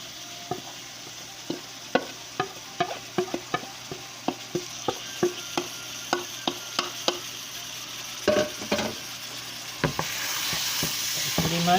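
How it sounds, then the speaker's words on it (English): Soya chunks frying in a pan for a Guyanese potato curry: a steady sizzle with a run of sharp scraping stirs and clacks at irregular intervals, and the hiss grows denser and louder near the end. "Pretty much, you're gonna go ahead and fry this a little."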